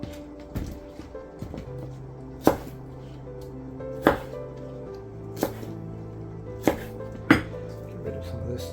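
A knife chops green onions on a cutting board, a handful of sharp, well-spaced knocks against quieter background noise and faint voices.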